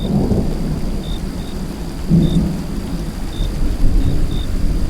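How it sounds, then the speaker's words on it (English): Heavy rain pours steadily while low thunder rumbles roll in and out, one near the start and a stronger one around the middle, with no voices. "the rain returned with renewed force"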